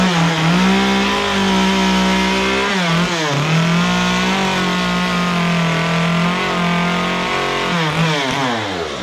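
A chainsaw carves and rounds a wooden feather, its engine droning loud and close with the pitch sliding up and down as the blade bites the wood and revs between cuts.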